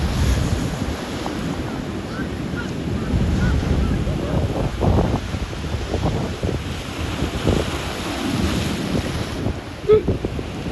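Big waves crash against the cliffs below a beach walkway in Dunedin, a loud rolling surf roar mixed with heavy wind buffeting the microphone, continuous throughout with surges of stronger breakers.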